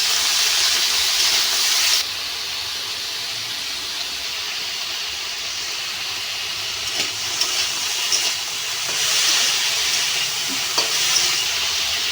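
Leafy greens and beans frying in a pan make a steady, close sizzling hiss that drops slightly after two seconds, with a few faint stirring scrapes and no voices.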